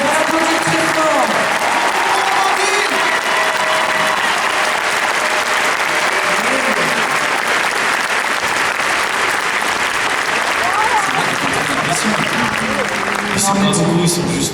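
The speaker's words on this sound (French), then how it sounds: "on va l'applaudir très fort." Audience applause at a French television broadcast, a dense, steady wash of clapping that fills the whole stretch at close, loud level, with a few faint voices and cheers mixed in near the end.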